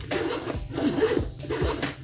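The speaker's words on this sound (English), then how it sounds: "Very smooth zipper." The zipper on a Coach Turnlock Edie shoulder bag is pulled in several quick, close strokes, giving a smooth rasping zip repeated in a steady rhythm.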